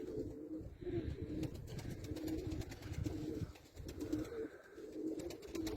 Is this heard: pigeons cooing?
yes